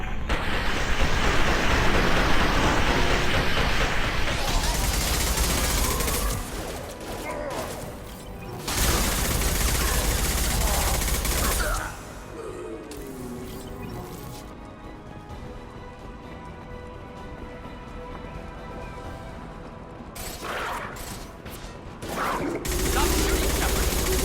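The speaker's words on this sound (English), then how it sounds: "Stop shooting, Shepard!" Sustained bursts of gunfire fill a Mass Effect 2 Legendary Edition firefight, loud and dense at the start, dropping to a quieter clattering stretch midway, then swelling again near the end.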